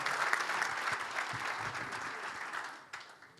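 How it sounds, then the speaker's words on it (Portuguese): An audience at a club day event gives a round of clapping for an artist, a steady mass of hands that fades slightly near the end, with no voices over it. "Uma salva de palmas para ele,"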